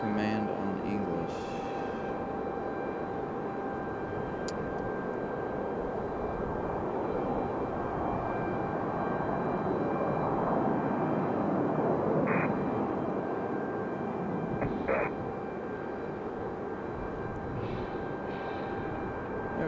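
An Embraer E175 jet arriving from New York touches down, a faint, steady engine rumble and wash of air heard from a distance, with a few brief clicks and a voice talking in the background.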